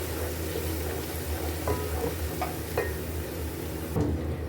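Garlic, ginger and crushed green chillies sautéing in a pan, a steady sizzle with a few light stirring scrapes and clinks, heard up close with no talking.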